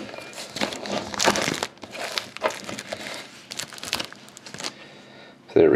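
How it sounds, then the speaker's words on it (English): Plastic wrap being cut and pulled off a 2011-12 Panini Dominion hockey card box: close, busy crinkling and crackling of film in bursts, ending with a louder knock. "I'm just going to cut the wrap first."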